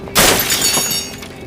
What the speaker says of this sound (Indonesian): Ken malah melemparnya dengan kunci mesin yang justru mengenai kaca mobilnya